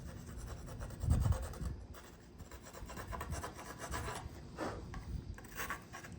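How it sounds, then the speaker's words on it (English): Rasping, rubbing strokes from deburring the back of a carbon fiber part on an RX-7, clearing off loose carbon hairs; a louder scrape near the start, then steady close scratching with brief pauses, no talk. "deburr the backside, get all the wispies off"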